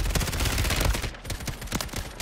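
Rapid automatic gunfire in Call of Duty Warzone, a dense, loud stream of shots with a brief lull and scattered impacts, no talk over it.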